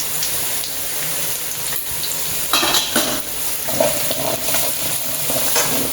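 Chili, turmeric, coriander and fenugreek powders are stirred in hot oil in a pan for a village-style fish curry, giving a soft steady sizzle with scraping spoon strokes and a few louder clinks against the pan.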